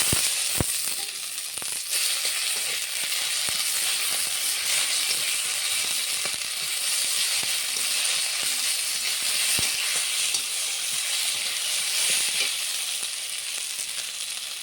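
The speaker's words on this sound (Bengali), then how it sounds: "কাঁচা লঙ্কা শুকনো লঙ্কা একসঙ্গে বাটা, আদা জিরে রসুন বাটা দিয়ে দেবো।" A paste of green and dried chilli, ginger, cumin and garlic goes into a pan with browned onions for egg curry and sizzles loudly and continuously up close, with scattered spatters and clicks and no voices.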